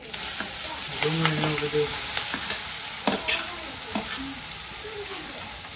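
Hot oil sizzles loudly as eggplant olo is tempered with asafoetida, then onion and other ingredients, with stirring scrapes and brief spoken words over the steady frying.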